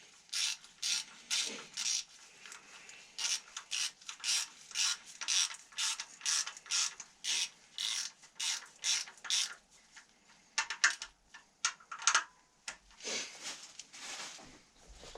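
A hand ratchet tightens VANOS bolts on a BMW E36 engine, giving quick clicking bursts in a steady back-and-forth rhythm, close and crisp, with a short pause and a few more irregular strokes near the end.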